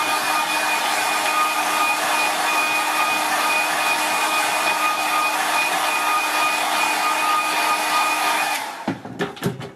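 A hair dryer blows a steady, loud whine with a constant hum while quick-drying a watercolour landscape painting, running alone for several seconds before switching off with a few clunks.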